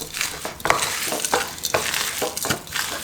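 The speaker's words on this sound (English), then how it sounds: "Mix this all up." Burger patty mixture with biscuit crumbs, spices and herbs being mixed in a bowl, giving repeated wet squelching and scraping strokes in a quick, irregular rhythm, close and fairly loud with no voices.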